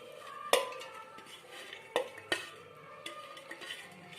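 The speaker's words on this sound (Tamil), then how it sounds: "பேரிச்சம்பழத்தை மிக்சி ஜார்ல சேர்த்துக்கலாம்." Dates being dropped into a mixer jar for grinding: a handful of sharp clatters and knocks against the jar, spaced a second or so apart, over quiet kitchen background.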